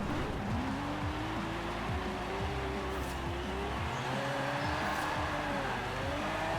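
A drift car in Forza Horizon 4 strains in second gear with too-long gearing, its engine note droning and rising and falling over tyre squeal, steady and fairly loud throughout with no talking.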